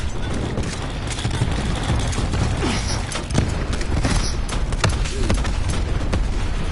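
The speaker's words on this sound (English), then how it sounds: "Cluster grenade going out." Cluster grenade blasts in a military video game: a dense, continuous barrage of overlapping booms and crackling detonations, loud and sustained throughout with several sharper impacts.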